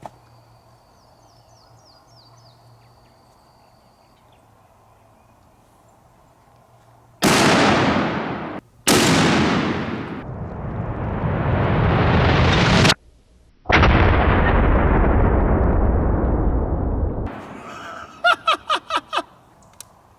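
A Barrett .50 caliber rifle left burning in a fire cooks off a round, giving loud sharp blasts with long roaring, crackling bursts of flame and echo, then a quick run of smaller pops at the end.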